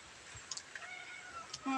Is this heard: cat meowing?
yes